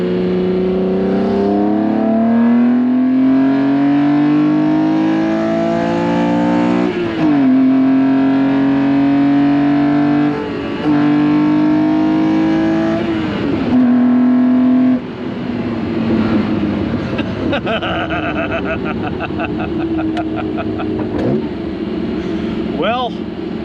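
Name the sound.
BMW M1 M88 inline six-cylinder engine revving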